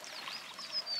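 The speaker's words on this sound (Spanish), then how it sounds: "Es un río de agua hirviendo" A river of boiling water at a hot spring in El Salvador gives off a soft, continuous bubbling and pouring hiss, faint and steady, with a few brief high whistling streaks.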